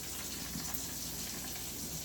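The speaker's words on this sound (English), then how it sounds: "I'm going to get some water from my filtered refrigerator" Water streaming steadily from the dispenser of a filtered refrigerator, a soft continuous gush and hiss like a running tap, close and unbroken for about two seconds with no talk.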